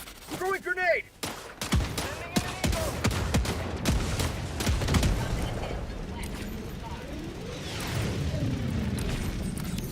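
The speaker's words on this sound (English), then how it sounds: "Throwing grenade." A video game battle with a thrown grenade: sharp rapid gunfire and heavy booms, then sustained rumbling explosion and weapon noise, loud and close, with a player's voice heard early on.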